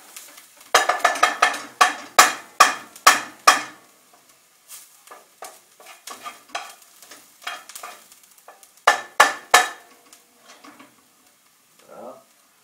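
Onions in a pan are stirred on lowered heat: loud, rhythmic spatula scrapes in quick bursts, with quieter scattered strokes and pauses between, and only a faint sizzle underneath.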